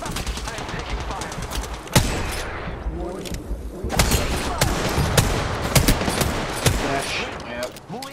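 Rapid automatic gunfire and sharp single shots crackle in an Apex Legends battle royale match, bursts rattling close and loud with heavy booms layered over a busy mix, while voices chatter underneath.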